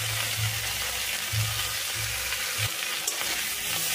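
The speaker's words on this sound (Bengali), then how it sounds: "সবজিগুলো একটু ভাজা ভাজা হয়ে গেলে এতে দিয়ে দেবো আদা বাটা, আর দিয়ে দিচ্ছি হলুদ গুঁড়ো, লঙ্কার গুঁড়ো আর জিরে গুঁড়ো।" Vegetables fry in hot oil with ginger paste and ground turmeric, chilli and cumin, a steady close sizzle with soft stirring scrapes throughout, no voices.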